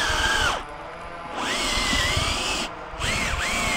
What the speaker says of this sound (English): just drill a couple holes.